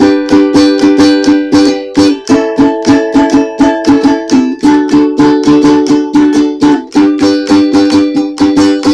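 Steady strummed chorus chords of a song on a ukulele, bright and rhythmic, cycling through a repeating progression with even down-up strokes and no voices.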